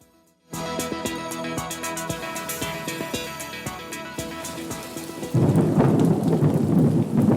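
A thunderstorm plays in a radio advert: rain patters steadily while thunder crackles and rumbles, with sharp cracking strikes early on, then a heavy, loud downpour swells in near the end, with no voices over it.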